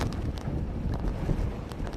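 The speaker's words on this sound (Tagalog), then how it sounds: "Dahil sa lakas ng hangin bitbit ng bagyong Milenyo" Strong typhoon winds from Typhoon Milenyo buffet the microphone in Barangay Santolan, Malabon, where shanty roofs are being torn loose, producing a loud, steady roar with gusty low rumbling throughout.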